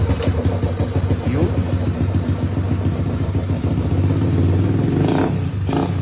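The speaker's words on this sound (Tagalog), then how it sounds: "Pero, at least umaandar na yung motor. Nagme-minor na." A rebuilt Honda Beat scooter engine fitted with a new block starts and settles into a steady idle, its dense mid-pitched clatter running close and loud throughout with slight revving swells near the end.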